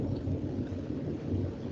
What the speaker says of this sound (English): Is it thunderstorm where you are?